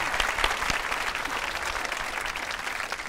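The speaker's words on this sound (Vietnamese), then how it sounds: "Mời quý vị chồng tràng pháo tay cho nàng công chúa trên đây." Studio audience at a TV dating show breaks into sustained applause, a dense, even wash of many hands clapping at close range with no pause.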